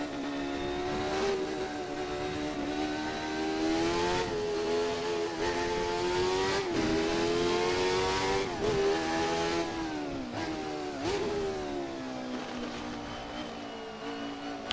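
Jordan 191 Formula One car lapping Spa in a racing video game, its high-pitched engine screaming loud and steady, pitch climbing through the gears with brief dips at each shift.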